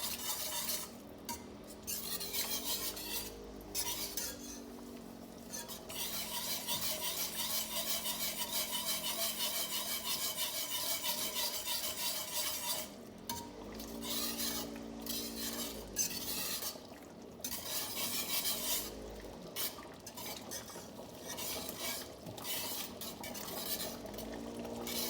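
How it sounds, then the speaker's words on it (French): A spoon stirs and scrapes thickened sauce in a pan on the hob, made for Liège-style meatballs, in steady rubbing strokes with short pauses, close up and with no talking. "Continuez à mélanger un tout petit peu dedans pour ne pas que ça s'accroche."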